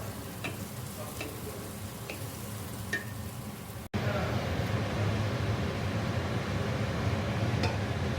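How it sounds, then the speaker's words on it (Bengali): Potatoes and onions for a chicken dish sauté in a pan with a steady sizzle and occasional stirring clicks, and the frying grows louder midway. "চিকেনের এই যে আলু আর পেঁয়াজটা এখন কষাচ্ছি"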